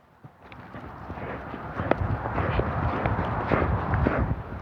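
Horse hooves clip-clop at a walk during a riding training session, a steady run of soft thuds building in loudness over several seconds with no talking.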